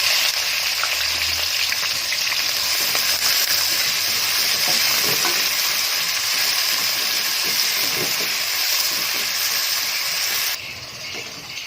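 Whole spices and onions fry in hot ghee with a loud, continuous hissing sizzle and bubbling crackle, close and steady, easing slightly near the end.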